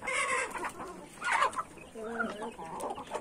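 Penned farmyard roosters cluck and call repeatedly, close and fairly loud, with several overlapping birds and a brief louder squawk.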